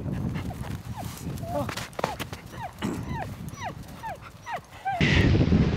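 A team of sled huskies barks, yips and whines excitedly in rapid overlapping calls while being readied to run on a windy Arctic winter trail, with gusty wind noise rising at the end.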